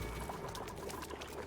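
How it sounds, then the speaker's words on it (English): Polluted water pours steadily in Oxygen Not Included, a continuous splashing gush with faint bubbling detail, moderately quiet and without voices. "Polluted water's getting dumped in there."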